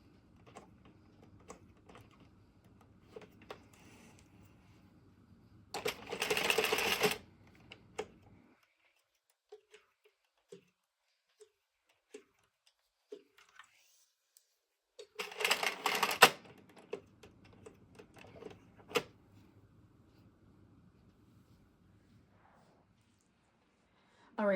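A 46 or 48 needle knitting machine clatters in two loud mechanical bursts as a ribbed beanie is removed from it. Between the bursts come quieter scattered clicks and taps, and the sounds stand alone without talk.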